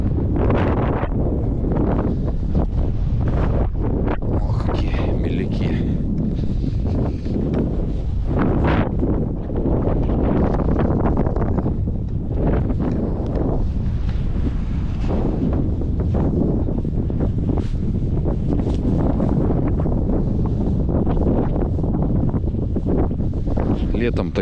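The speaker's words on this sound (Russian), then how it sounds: "Ветер не такой сильный, но холодный," Cold wind on a beach at Yeysk buffets the microphone in loud, continuous roaring gusts, with a voice speaking faintly beneath the rumble.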